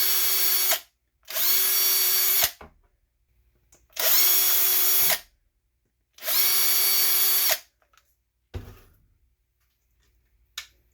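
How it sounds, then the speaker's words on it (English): A power drill runs in four separate bursts, each roughly a second long with short pauses between, as it drills out holes in a 3D printed plastic camper cap for an RC4WD Blazer body to 3mm. A faint click or tap follows near the end. "So all the holes in the cabin itself can be reamed out or drilled out to 3mm."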